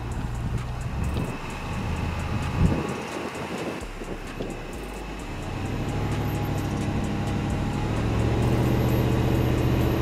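A Range Rover Sport on standard snow tyres climbs a snowy slope in drive with automatic terrain response, its engine and tyre rumble a steady, close drone that swells slightly toward the end, with wind noise and no voices.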